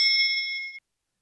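A dashcam gives a single bright electronic chime, a clear ringing ding that holds for under a second and cuts off abruptly, faint and alone.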